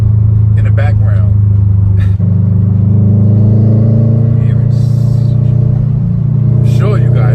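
A manual car's engine drones steadily while driving at moderate speed, a deep continuous rumble that shifts pitch briefly midway, with a voice talking over it.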